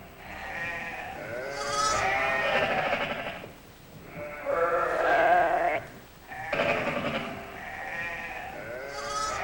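A ewe and her lamb bleat on a lowland Scottish sheep farm, three long wavering calls in turn with short pauses between, close and clear, no talk.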